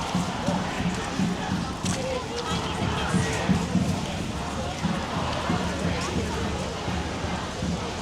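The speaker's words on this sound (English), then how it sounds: "that's a good crowd as well" Crowd at a women's rights rally on a London street, a dense outdoor murmur of many voices with footsteps and shuffling, steady and fairly close throughout.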